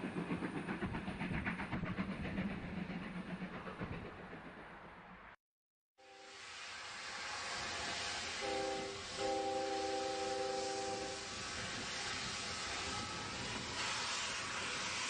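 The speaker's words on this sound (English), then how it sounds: "Train sounds." A game train rumbles and clatters steadily in Zero Sievert, cutting out for a moment, then returning louder with a sustained tonal whistle-like hum over the rolling noise.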